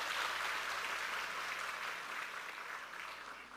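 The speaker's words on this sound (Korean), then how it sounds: "임병욱 선생님을 큰 박수로 모시겠습니다" An audience at a university admissions information session applauds as a speaker is welcomed, a steady, fairly close patter of many hands that fades slightly toward the end.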